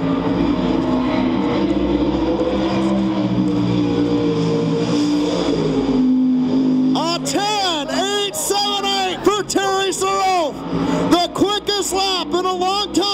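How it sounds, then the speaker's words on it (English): A dirt late model race car laps an asphalt speedway, a loud, sustained engine drone that breaks into rapid revving and gear-change wails as it comes nearer; a commentator talks over it. "There's nothing better than watching a dirt late model on asphalt."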